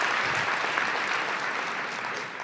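Continuous applause from an audience at a regional planning address in Ohio, even and moderately loud, tapering slightly near the end.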